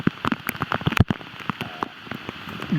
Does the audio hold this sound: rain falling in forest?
yes